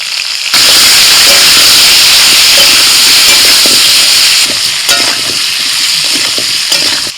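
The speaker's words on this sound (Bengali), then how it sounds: "তেল গরম হয়ে গেছে এবার আলু দিয়ে দিচ্ছি আলুর মধ্যে দিচ্ছি লবণ হলুদ গুঁড়ো" Potatoes drop into hot oil with salt and turmeric powder, setting off a sudden, loud, continuous frying sizzle with stirring scrapes and crackles that stays strong for several seconds.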